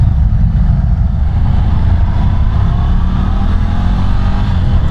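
Ducati Scrambler 1100 Pro motorcycle engine under way, a loud, steady low rumble with wind rush through the whole stretch, no talking over it.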